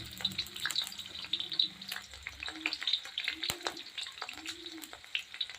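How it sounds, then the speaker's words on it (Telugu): Vegetables, garlic and green chillies sizzle and crackle steadily in a hot pan for veg noodles, with a close, continuous fry and occasional stirring scrapes. Low speech can be heard in the background. "కొంచెం ఫ్రై చేసుకుందాం."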